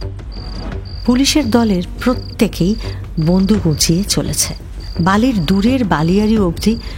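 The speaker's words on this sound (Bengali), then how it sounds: "আওয়াজ বলতে একটানা ঝিঝির ডাক শুধু।" Crickets chirp in a continuous, steady high drone through a quiet night, running under a narrator who reads a dramatic story throughout.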